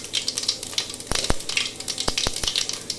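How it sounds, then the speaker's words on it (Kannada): Mustard seeds, cumin and dried chilli are tempered in hot oil for a curry, giving a lively close sizzle with rapid crackles and several sharp pops from spluttering seeds, and no one talking. "ಆಯಿಲ್ ಹೀಟ್ ಆಗಿದೆ. ಈಗ ಒಗ್ಗರಣೆ ಹಾಕ್ತಾಯಿದ್ದೀನಿ."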